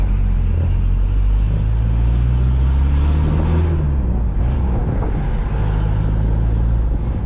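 An old pickup truck with an aftermarket turbo drives along with a loud, steady engine drone and low rumble, the pitch shifting slightly as it changes speed, heard from inside the cab.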